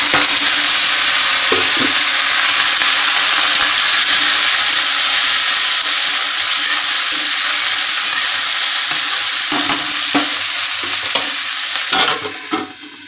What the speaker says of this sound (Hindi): तो संगवारी की प्याज फोरन डाल है।